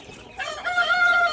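A Chinese silkie rooster, a large bird of about five kilos, crows once, close and clear, the call rising and holding for about a second with no voices over it.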